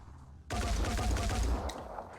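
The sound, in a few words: gunfire in bursts from the video game Phoenix Point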